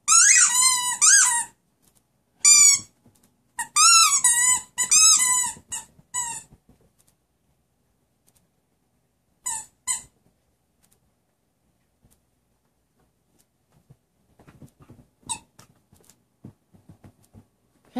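A dog plays with a squeaky Angry Birds toy, producing bursts of sharp, rapid squeaks up close, then a quieter stretch with light knocking and shuffling as play slows.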